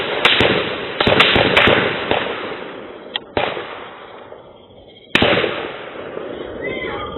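Nearly two dozen gunshots ring out on a road at night, caught by a security camera. The sharp cracks come in an irregular volley, some close together and others spaced apart, and they echo over a steady background hiss.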